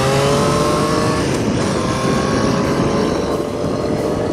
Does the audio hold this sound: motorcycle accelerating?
yes